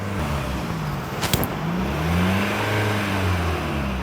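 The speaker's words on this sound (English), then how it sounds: "he's going to give it a little rev" A car engine idling during an internal carbon-cleaning treatment, given a brief rev that swells and eases back to a steady hum, heard close with a short clatter midway.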